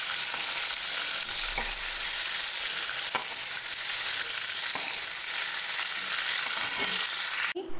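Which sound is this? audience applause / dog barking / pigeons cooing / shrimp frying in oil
shrimp frying in oil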